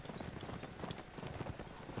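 Hooves of a horse galloping in Mount & Blade: Warband, a fast, steady clip-clop rhythm running throughout, moderately loud amid battle ambience.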